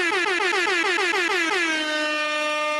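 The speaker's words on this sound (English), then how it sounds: "let's give these guys some air horns" A loud air horn sound effect blasts in a rapid series of short honks, then holds one long sustained tone to the end, heard alone with no talking.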